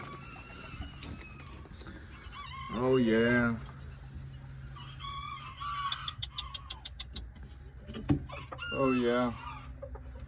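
An Old English game silver duckwing bantam rooster crows twice in loud, wavering bursts, with clucking and other birds around it, while someone speaks briefly nearby.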